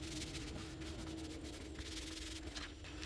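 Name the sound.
burnishing paper on hardcover notepad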